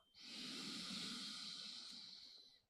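A single long, deep breath is drawn in through the nose during a yoga session, an airy hiss that swells quickly and holds for over two seconds before trailing off, close and quiet.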